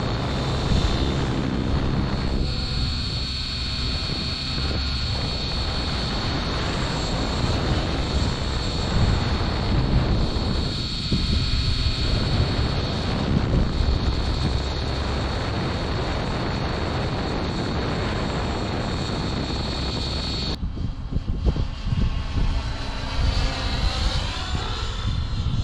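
An Align T-Rex 550X RC helicopter flies outdoors in acrobatic mode on a windy day, with a continuous high-pitched rotor and motor whine that rises and falls slightly as it manoeuvres, loud and steady throughout.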